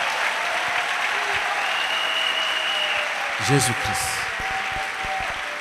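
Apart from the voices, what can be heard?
church congregation clapping hands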